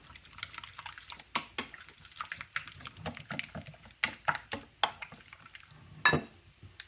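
Mayonnaise being mixed into crab and shrimp in a bowl, giving soft, irregular wet clicks and utensil taps against the bowl, fairly quiet and close, with a sharper clack near the end.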